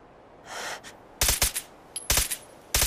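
Gunfire in the video game Fallout 4: sharp, loud bursts of rapid shots in three separate clusters, each a quick double or triple crack, with a faint breathy sound before the first burst.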